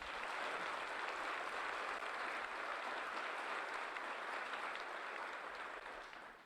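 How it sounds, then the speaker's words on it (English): Applause for awardees at a graduation ceremony: a dense, sustained crowd clapping at steady loudness that tapers off at the very end, with no speech over it. "Let's give a round of applause to all the awardees one more time"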